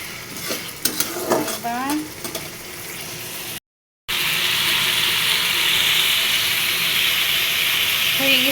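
Potato curry sizzles in a pan as it is stirred, with scraping utensil sounds, a brief silent gap, then a louder continuous hiss of frying; someone speaks briefly at the start.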